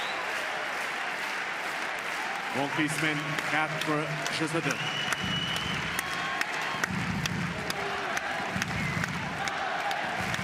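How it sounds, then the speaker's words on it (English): A crowd at the Roland-Garros night session applauds and cheers during a first-round men's tennis match, bursts of clapping rising over an announcer's voice before fading into scattered claps. "And this crowd is loving it."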